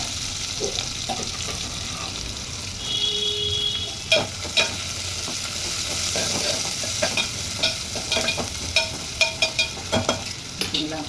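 Onion and curry leaves sizzling in hot oil for an avarakkai sambar, a steady hiss with occasional sharper clinks and pops of a ladle in the pan toward the end, close and alone without talk.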